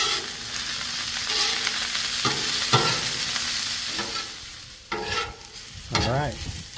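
Onions fry in olive oil on a Blackstone griddle with a constant loud sizzle, broken by several scraping strokes of a spatula across the flat-top.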